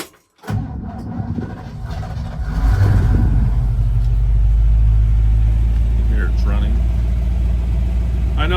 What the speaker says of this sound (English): Let's go ahead and fire it up here